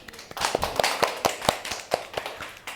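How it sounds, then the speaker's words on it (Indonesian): Students in an Indonesian classroom clap together, a quick burst of uneven, overlapping hand claps of moderate loudness with no talk over them. "Tepuk tangan dulu teman-teman."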